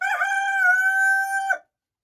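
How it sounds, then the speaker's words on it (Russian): A rooster in a chicken coop lets out a single clear, close crow lasting about a second and a half, then falls silent. "А вот этот, который только что кукарекал, еще немножко стеснительный."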